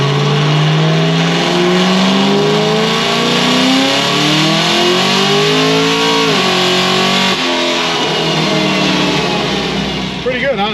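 A Procharged, supercharged car engine on a dyno screams as revs climb hard through third gear, snaps down on the 3-4 shift, then pulls again in fourth before easing off; loud and close, with no talking.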